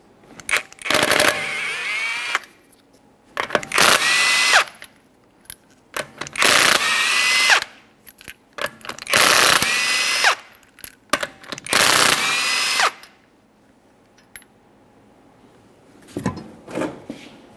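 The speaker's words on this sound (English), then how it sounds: "to remove the wheel, remove all five of your 21 millimeter lug nuts" A power impact tool removing 21 mm lug nuts from the front wheel of a 2011-2020 Toyota Sienna: five loud, close bursts of rapid hammering rattle, each about a second long, separated by short quiet gaps.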